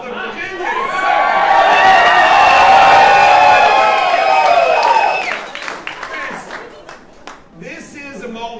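A large crowd at a Virginia governor's campaign rally cheers, whoops and applauds loudly and steadily for several seconds, then the roar fades into scattered claps and shouts.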